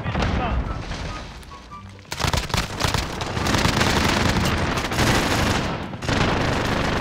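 Sustained bursts of automatic gunfire in Modern Warfare Survival mode, loud rapid volleys with booming impacts after a brief lull, with people talking over the shooting.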